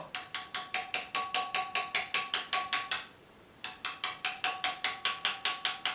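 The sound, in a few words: claw chisel carving hair on a marble bust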